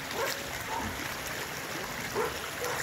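Water runs through a once-dry drainage channel coming down from the mountain, a soft steady rushing and trickling with faint splashes, heard alone at low level.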